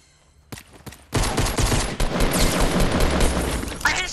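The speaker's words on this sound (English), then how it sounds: "Wait, who just shot?" Gunfire in a Fortnite-style shooter video game: a quiet start, a few isolated shots, then a loud dense barrage of rapid overlapping gunfire that continues without pause to the end.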